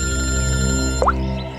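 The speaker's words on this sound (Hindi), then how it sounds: "पूर्वी का फोन है।" A mobile phone rings in a police crime drama scene, a steady electronic ringtone with sustained tonal layers, loud and close, briefly broken near the end by a short rising chirp.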